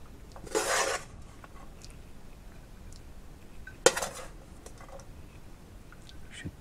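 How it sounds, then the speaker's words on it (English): Egg fried rice is dished up onto plates with two distinct bursts of spoon and pan scraping a few seconds apart, close and clear over a quiet kitchen background. "Let's get dishing up. First up then, the egg fried rice."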